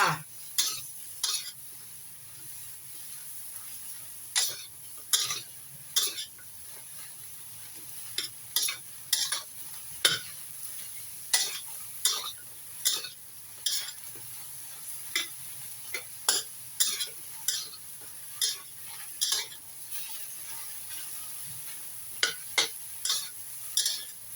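Long eggplant being stir-fried in oil in a pan, a faint steady sizzle with sharp irregular clicks and scrapes of a spatula stirring throughout, close and alone.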